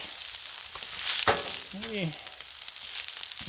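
Turkey stir fry sizzles on a Blackstone flat-top griddle, a steady close frying hiss broken by a sharp scrape and a brief voice-like whistle.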